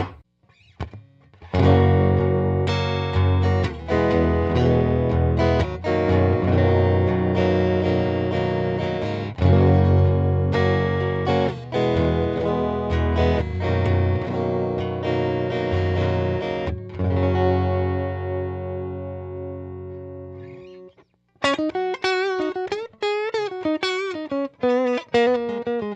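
An electric guitar played through its humbucker pickup into a 1975 Fender Silverface Champ amp rings out in strummed chords and sustained notes, loud and close, followed after a short pause by a run of bright single-note picking.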